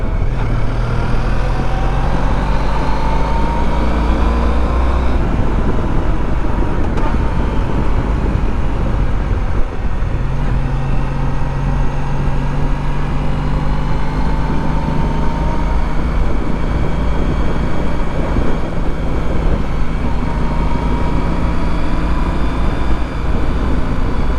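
Honda ST1300 motorcycle riding twisty roads, with a steady loud engine drone and heavy wind rush throughout, its pitch rising and falling as the bike works through the bends.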